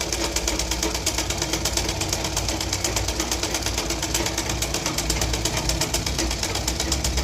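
A sewing machine runs steadily, stitching around the edges of a cross-cut blouse's fabric with a fast, even, rhythmic mechanical chatter that is close and continuous and has no talk over it.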